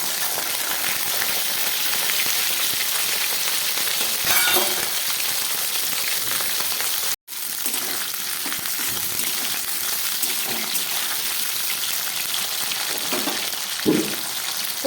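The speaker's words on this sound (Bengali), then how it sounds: "আমি কপিগুলোকে একটু ভেজে নিচ্ছি।" Cauliflower florets fry in hot white oil with a dense, loud, continuous sizzle, broken once by a brief cut and punctuated by occasional soft stirring knocks.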